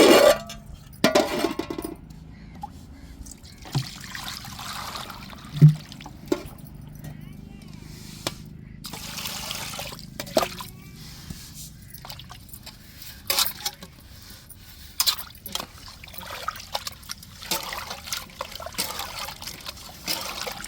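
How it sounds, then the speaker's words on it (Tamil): Water poured over salted fish in a bowl to rinse it after scrubbing with rock salt, giving intermittent splashing and trickling bursts close by under steady talking. "இப்போ தண்ணியை ஊற்றி அலசிக்கிடுவோம்"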